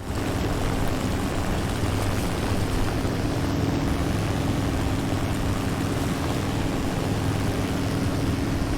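A combat flight simulator game plays the constant, loud drone of an airplane engine, a dense unbroken roar that holds steady throughout with no talk.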